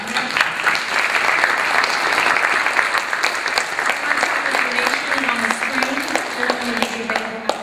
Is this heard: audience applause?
yes